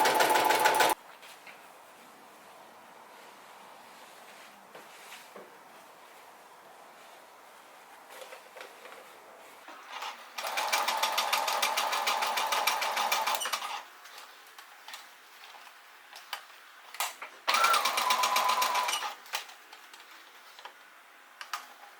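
A sewing machine stitches a reversible bucket hat, its motor whirring in steady runs that start and stop, with a quieter ticking hum between the bursts and no talking.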